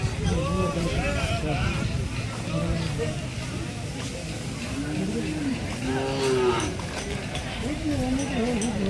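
Calves mooing repeatedly at the Akki Aluru bull market, a weekly Tuesday-morning livestock fair, several drawn-out moos rising over a steady background of crowd chatter and people talking nearby.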